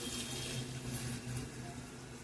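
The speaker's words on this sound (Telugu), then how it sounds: "ఏ కప్పుతో అయితే రైస్ తీసుకున్నా ఆ కప్పుతో 2 కప్పులు వాటర్ అనేది వేసుకుంటున్నాను" Water pours steadily into rice in a pressure cooker as a faint, continuous, even stream, with no talking.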